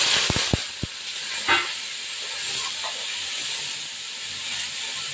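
Sliced potatoes sizzle in a hot pan while cooking dhokar dalna, a steady broad frying hiss lasting throughout, preceded by a few sharp clinks at the start.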